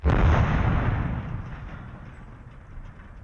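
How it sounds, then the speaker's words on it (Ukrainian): A single loud blast from a 1974-built artillery gun of the 31st Mechanized Brigade booms close by, then rumbles and fades away over a few seconds. "Гармата! Постріл!"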